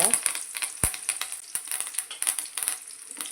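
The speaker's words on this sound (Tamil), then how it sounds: "இப்போ இது கூடவே ஒரு ரெண்டு மூணு கொத்து கருவேப்பிலை சேர்த்துக்கோங்க" Curry leaves and shallots fry in hot oil, giving a close, lively crackle of rapid pops and spits over a soft sizzle, with an occasional light clink.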